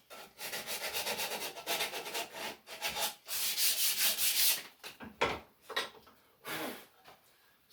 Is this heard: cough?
no